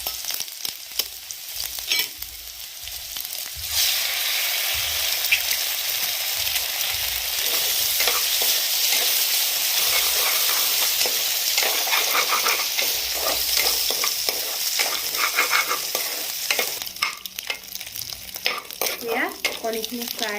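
An egg fries in hot oil in a pan while cooking chicken Maggi, with a loud, continuous close sizzle and crackling spits that surge stronger partway through and keep going throughout, no talking.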